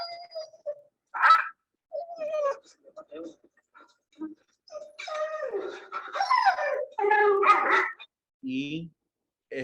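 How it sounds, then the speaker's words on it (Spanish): A husky howls and whimpers in short broken bursts, some drawn out and wavering, others brief and sharp, with quiet gaps between, fairly close and alone. "Y este es el husky la semana anterior"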